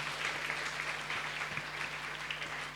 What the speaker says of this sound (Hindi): प्रभु को ताली बजाइए